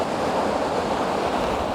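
Ocean waves wash steadily around a jetty at high tide, a continuous loud roar of surf with some wind noise and no talking.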